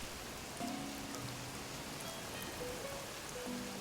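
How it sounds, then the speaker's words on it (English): Steady soft rain effect in Animal Crossing: New Horizons, a constant broadband hiss with faint game tones and chimes on top, at low volume with no talking. "Sorry, Static, the rain sounds are still playing."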